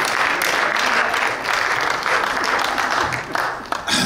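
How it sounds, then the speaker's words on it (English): A church congregation claps in praise, producing a loud, continuous wave of applause that thins out toward the end, with a few voices mixed in. "Give the Lord a hand clap of praise."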